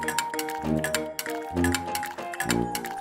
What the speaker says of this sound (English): Mix all the ingredients with the spoon.